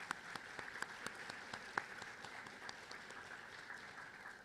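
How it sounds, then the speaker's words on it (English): Audience at a history symposium giving a round of applause, a faint, distant patter of many hands clapping steadily and fading slightly toward the end. "Let's give them a round of applause again."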